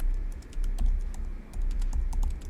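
Keys on a computer keyboard are pressed in quick light clicks, several taps in irregular succession at close range, alone without talk.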